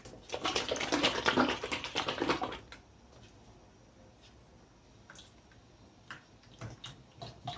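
Thick lassi for karhi is stirred quickly in a pot, making a rapid, close run of clicking and tapping for a few seconds before it settles into scattered faint taps.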